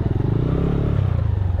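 A motorcycle rolls slowly over a rocky parking lot, its low engine rumble steady and close with gravel clatter and scraping beneath it, no voices.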